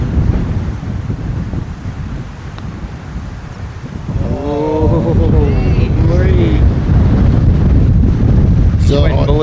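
Wind gusting across an open golf course, a loud rumbling buffet against the microphone that swells and stays strong, with a faint voice-like or animal-like tonal sound rising midway through.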